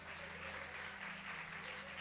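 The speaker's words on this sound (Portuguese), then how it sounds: "Dê um aplauso ao Senhor." A church congregation applauds during a service. The clapping is soft and steady, set against a low hum and faint voices.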